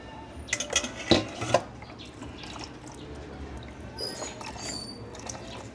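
Coconut milk mixture being transferred into a cooking pot for ginataang dalag, with a few sharp clinks of a metal utensil against the pot near the start, then a soft steady pour and faint dripping.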